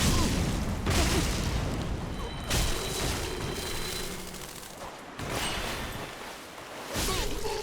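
Explosive weapon slam in Dark Souls 3, several loud booming blasts with whooshes and crackling debris, spaced across the span amid game combat noise.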